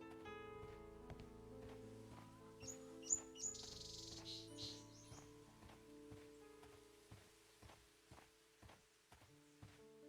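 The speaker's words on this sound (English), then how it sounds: "You can kind of hear like rustling leaves, little birdies chirping." Small birds chirp and tweet in repeated short bursts across a quiet outdoor ambience in the Sherlock Holmes: Crimes & Punishments game, with faint rustling and soft footstep-like ticks underneath.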